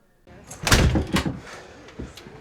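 A door in a TV show being shut and locked, heard as a close wooden thud followed by a second knock and a small rattle of the latch, with faint voices mixed in.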